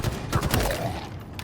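Rapid bursts of weapon fire from a plasma pistol and rifle in Halo Infinite, a dense cluster of sharp shots packed into a second and a half, fairly loud with no voices.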